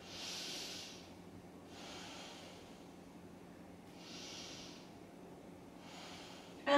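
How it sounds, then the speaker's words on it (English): Slow, deep yoga belly breaths, four long airy hissing inhales and exhales in a calm even rhythm, close and soft, with no talk. "Lift the chin slightly to open the airways and breathe down to your belly"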